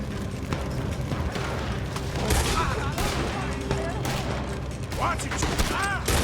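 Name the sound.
gunfire in video game Red Dead Redemption 2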